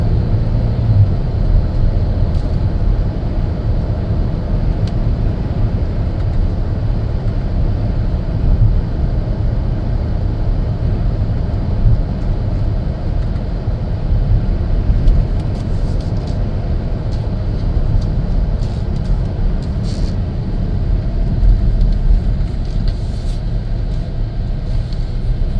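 A 2020 Chevrolet Traverse AWD 3LT cruises along a road, its steady low rumble of tire and road noise heard from inside the cabin without a break.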